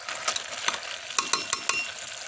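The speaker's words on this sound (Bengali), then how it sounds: "মাংসটা ভালো করে কষিয়ে নিয়েছি কপিটার সাথে।" Beef and cabbage stir-fried in a pan, with a soft sizzle under sharp, irregular clinks and scrapes of a spatula against the metal, close and fairly quiet.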